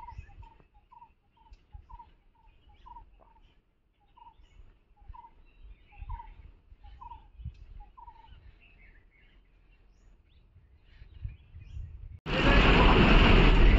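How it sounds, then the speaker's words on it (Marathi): Birds call in quiet Konkan village countryside, repeating a short clear chirp about a dozen times in an even rhythm over faint low rustling, before a sudden loud rushing noise cuts in at the end. "शांत वातावरण आहे, त्यामुळे पक्ष्यांचा आवाज चांगला येत आहे."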